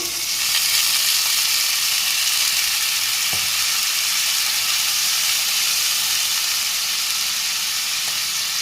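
A chital fish curry sizzles hard in a pan as water goes in: a loud, steady broadband hiss of frying and steam that runs the whole time, with no talking.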